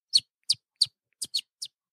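A human voice imitates an agitated bird's alarm call: six sharp, high chirps in quick, slightly uneven succession, close and clear against silence.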